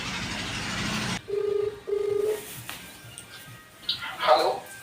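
A phone being dialed gives two short, clear tones after a burst of noise, followed by faint chirps and soft background sounds, with no talk.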